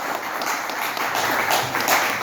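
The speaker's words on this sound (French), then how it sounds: "Applaudissez s'il vous plaît. Plus fort, plus fort." Wedding guests applauding steadily, a dense wash of clapping that swells slightly toward the end, with faint voices mixed in.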